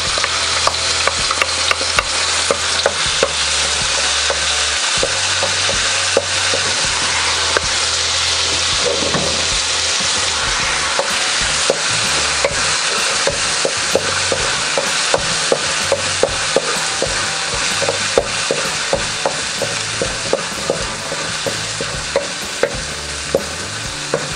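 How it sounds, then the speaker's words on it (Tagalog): Garlic sizzles steadily in hot oil as it is sautéed for a native chicken tinola, with a constant loud frying hiss and frequent small clicks of a utensil stirring against the pan throughout. "Ngayong mainit na, ay pwede na natin igisa yung ating bawang."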